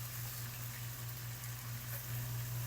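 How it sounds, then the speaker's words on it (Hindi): Fresh garlic ginger paste frying in a pan for dhaba-style lentils, giving a soft, steady sizzle that hisses evenly throughout over a constant low hum. "बस 1 मिनट तक हम इसको फ्राई करेंगे लहसुन अदरक को"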